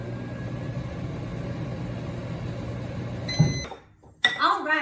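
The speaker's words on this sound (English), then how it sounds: "we're going to go ahead and pop it in the microwave for 3 minutes and 30 seconds" Microwave oven running while melting a chocolate mixture, a steady mid-level hum with a fan drone filling most of the clip, then a few electronic beeps, a brief pause and a rustle near the end.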